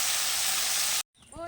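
Fish sizzling lightly in a frying pan, a steady bright hiss for about a second that cuts off abruptly, followed by a faint pause and a voice beginning to speak.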